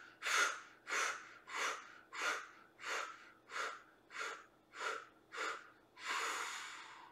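Nine slow, even breaths in a steady rhythm, each a loud, airy rush through the nose and mouth, paced during a neck stretching exercise, ending in one longer, drawn-out exhale; no talking.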